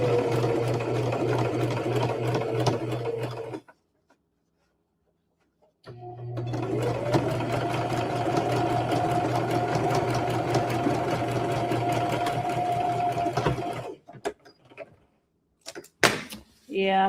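A sewing machine stitches a thick quilt block in two loud, steady runs of motor whir and needle clatter separated by a pause, then stops with a few short clicks and handling noises.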